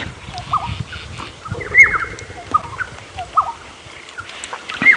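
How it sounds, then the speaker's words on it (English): Several short golden oriole calls repeat at uneven intervals, fairly close, over a soft, steady outdoor background on a safari drive. "the orioles have a fight. Which doesn't sound very angry, the call that they're making"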